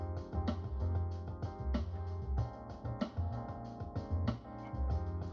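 Programmed drum beat from Addictive Drums software, a steady full kit groove with punchy kick, snare hits and busy cymbals playing loud and continuous alongside other instrumentation, with no talking.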